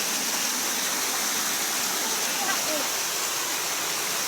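A powerful waterfall roars steadily and loudly close by, a dense unbroken rush of falling water with a faint voice briefly underneath.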